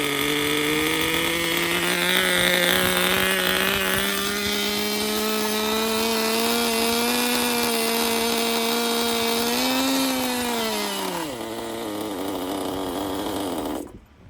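An OS Max CZ12 nitro engine in a vintage Kyosho ZR-1 Corvette RC car runs loud and close, a high buzzing whine holding steady and rising slightly before dropping off sharply near the end.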